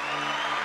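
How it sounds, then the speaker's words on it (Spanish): Audience applause fills a church service, a dense, steady wash of many hands clapping at moderate level with no gaps. "Dale otro aplauso al Padre."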